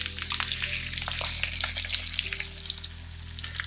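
An egg fries in a hot pan, crackling and popping loudly and close in a dense, uneven sizzle that runs throughout with no talk.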